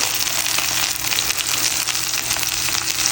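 Spiced fish coated in masala sizzles steadily in a pan, a dense continuous frying hiss with small crackles throughout, close and fairly loud, no voices.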